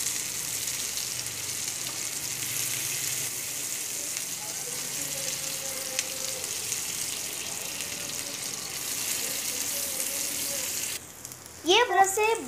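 Sheekh kebabs fry in a pan with a steady, close sizzle throughout, broken near the end by a brief clatter or scrape of turning.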